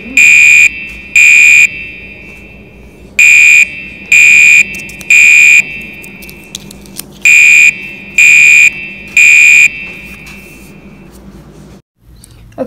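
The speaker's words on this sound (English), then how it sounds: "a white Gentex horn strobe on high volume" A white Gentex horn strobe fire alarm on high volume sounds in a building during a system test, with loud, piercing horn blasts in a repeating temporal pattern of three bursts, pauses between groups, and a quiet room hum beneath.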